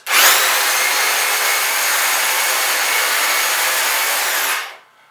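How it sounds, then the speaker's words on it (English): A cheap, free chainsaw held together with tape runs continuously for about four seconds at a steady, loud, close-up whine, then cuts off; no one speaks over it. "Oh my God, I've got a chainsaw!"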